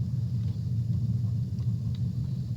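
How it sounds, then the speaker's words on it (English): Steady low rumble fills the background inside a broadcast bunker, continuous and fairly loud, with a few faint higher clicks over it and no talking. "So if you hear that distinctive rumble,"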